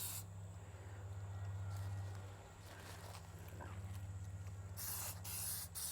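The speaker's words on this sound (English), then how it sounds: "then you're just going to lightly coat everything else all over." Waterproofing coat sprayed onto a tent from an aerosol can, a steady close hiss in long bursts over a low hum, with a brighter, louder spray near the end and no speech.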